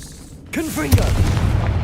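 A Confringo spell blast in Hogwarts Legacy goes off with a loud, sudden boom and a rumbling tail right after a voice calls out the spell, with a brief swooping effect mixed in.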